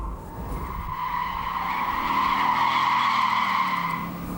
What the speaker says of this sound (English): there is another way of getting the back end of the car to slide